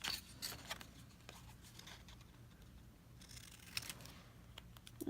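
Scissors snip through a paper Naughty and Nice card piece, several quiet, irregular cuts with crisp clicks near the start and again toward the end, close by with no talking.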